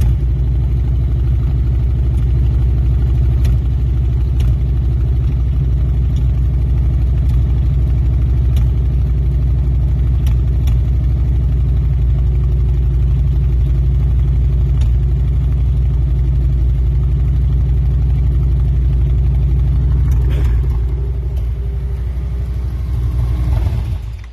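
A Kawasaki motorcycle fitted with a SharkRoad loud baffle exhaust idles steadily, a loud, deep, continuous rumble close by that holds even throughout before a slight dip near the end.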